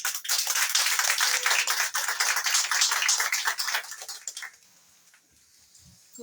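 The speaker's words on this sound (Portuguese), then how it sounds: "Receba a serva do Senhor com palmas para Jesus." A congregation at an Apostolic church service in Brazil claps in welcome, a lively crowd of hands patting rapidly and unevenly for about four seconds before quickly fading into near silence.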